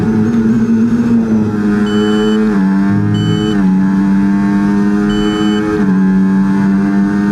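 Race car engine in a racing video game revving loudly and steadily, its pitch rising and dipping through gear changes and throttle shifts, with no speech over it.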